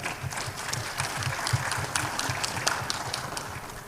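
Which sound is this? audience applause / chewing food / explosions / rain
audience applause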